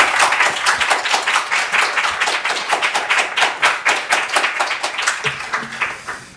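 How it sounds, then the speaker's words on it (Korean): Church congregation claps in sustained, fairly loud applause welcoming a pastor to the pulpit at a Sunday service, dense and even, tapering slightly near the end. "우리 큰 박수로 환영해 주십시오"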